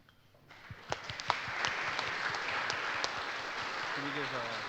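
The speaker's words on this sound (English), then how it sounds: "Can we give Átila another round of applause for the fastest lightning talk" An audience at a DConf 2017 lightning talk breaks into applause; the clapping starts after a brief quiet moment, quickly builds into a steady, moderately loud roar of hands, and carries on to the end.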